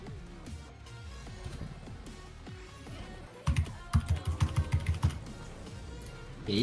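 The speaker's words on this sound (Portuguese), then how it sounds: "Cara, tá quebrando o teclado" Fast, hard typing on a computer keyboard during a competitive online game, starting as scattered clicks and building into a loud, rapid flurry of heavy keystrokes near the end.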